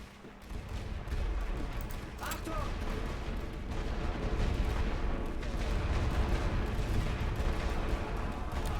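Dense, continuous rumbling artillery fire from a World War I strategy game, The Great War: Western Front, with overlapping booms and crackles throughout and a voice faintly present beneath it.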